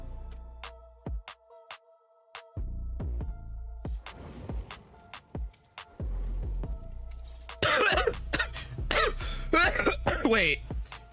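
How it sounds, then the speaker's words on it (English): Coughing and throat clearing from a streamer at a microphone, loud and close, in short bursts scattered through the clip, heaviest and harshest in a cluster toward the end, with a steady low hum underneath. "I'm coughing and I didn't mute it because that's the effect that I need y'all to hear"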